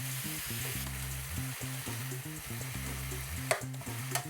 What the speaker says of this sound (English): I'm going to cook up the kalbi short ribs